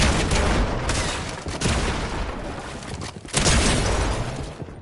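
Rapid gunfire in Fortnite, loud and sustained bursts of shots rattling close by, with brief dips between volleys and a sharp renewed burst near the end.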